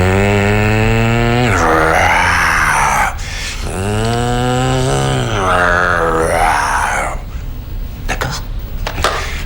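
A person's voice imitates a roaring airplane blended with a growling tiger, delivered as long, rough, rising and falling vocal bursts with brief pauses between them.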